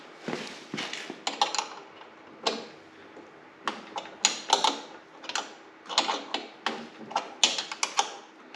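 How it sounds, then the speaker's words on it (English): A wrench and ratchet break loose the 10 millimetre track tension adjuster bolts on a quick-adjust track suspension, producing close, sharp metallic clicks and clunks in uneven bursts with no talking. "so you use a wrench and a ratchet. Break them loose so you can take the track tension off"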